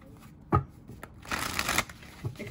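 A deck of tarot cards being shuffled during a reading, with a sharp riffle at the start and a longer burst of flicking, sliding cards in the middle, close and moderately loud, with no one speaking.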